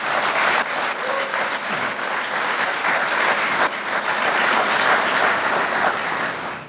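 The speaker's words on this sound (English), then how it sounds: "Can you give her a round of applause, please?" Sustained, loud applause from an audience at a William & Mary Athletics Hall of Fame ceremony, honoring Sylvia, steady clapping throughout without speech.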